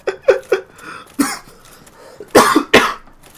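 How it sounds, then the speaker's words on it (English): Laughter that breaks into a coughing fit, several sharp close bursts with short pauses, ending in two harsh loud coughs. "So that laugh turned into a cough."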